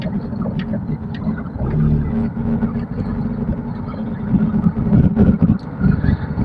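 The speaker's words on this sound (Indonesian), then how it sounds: "suara mesinnya itu terdengar sampai kabin, sangat jelas." Peugeot 405 STI engine droning steadily inside the cabin while driving, a continuous low hum with road rumble that swells slightly toward the end, with no voices.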